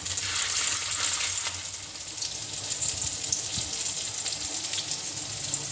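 Fish roe pakoras fry in hot oil, giving a loud, dense, steady sizzle close up with a constant bubbling hiss throughout.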